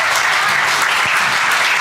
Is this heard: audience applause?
yes